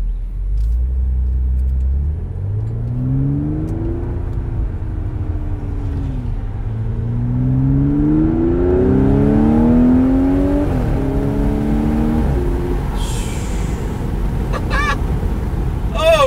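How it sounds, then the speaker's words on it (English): Supercharged V6 exhaust of an Audi S5 coupe heard from inside the car on a downshift: a deep rumble rising through the revs in loud sweeping pulls, then dropping off, with a brief sharp burble at the end. "Hear that exhaust."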